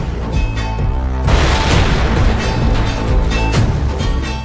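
Diwali firecrackers burst close by in loud booming blasts, with a heavy explosion about a third of the way in and more crackling bangs layered over a rumbling background.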